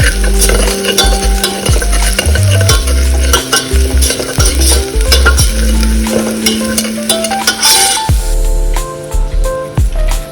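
A teaspoon of turmeric sautéed for misal, with loud, continuous sizzling and frequent scraping stirs across the pan, plus some ringing, tonal scraping.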